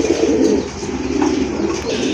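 Several pigeons coo steadily and close by, a dense overlapping murmur of soft throaty calls from a market stall, with occasional faint chirps and wing flutters and no speech.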